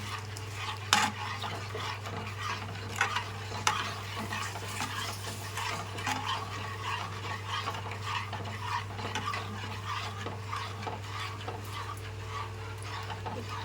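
A red gooseberry (nellikka) moru curry with salt stirred in a pan, giving soft, repeated scraping and clinking of a spoon over a low steady hum, with no voices.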